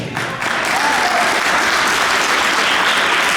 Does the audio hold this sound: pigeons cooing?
no